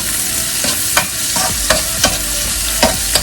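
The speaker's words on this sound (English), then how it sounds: "So you want your onions to come nice and clear. You're going to keep on stirring." Half a yellow onion sizzles in a pan while a spoon stirs it, giving repeated sharp scraping strokes roughly every half second over a continuous close frying hiss.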